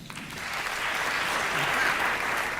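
A studio audience at a late-night talk show breaks into sustained applause, a dense wash of clapping that swells and holds steady throughout.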